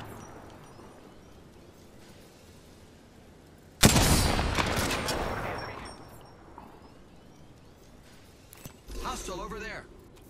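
Enemy gunfire in Apex Legends erupts as a sudden loud burst of rapid shots that slowly fades, with a second, shorter volley near the end over a quiet game backdrop.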